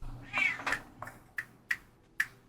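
A house cat at home meows several times in quick succession, short close calls spaced across a couple of seconds in an otherwise quiet room.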